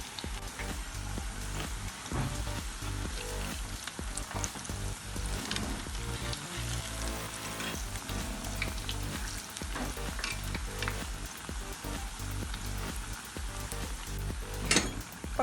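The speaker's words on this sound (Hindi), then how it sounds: "पकोड़े हमारे फ्राई हो चुके हैं" Chinese pakoras deep frying in hot oil over a medium-high flame, a dense crackling sizzle with constant bubbling pops, close and steady throughout, no voices.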